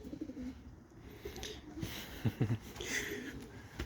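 Racing pigeons in a loft give low, soft coos, a few throaty bursts standing out over quiet background noise.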